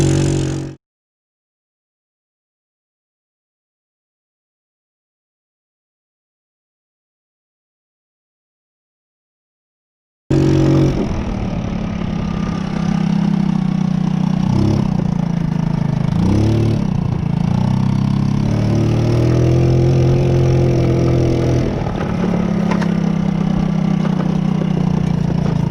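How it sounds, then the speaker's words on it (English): A free scooter's engine runs steadily at idle, close and loud, with a low even drone and a few brief rises in pitch, after a silent stretch at the start. "Let me kill the engine right here"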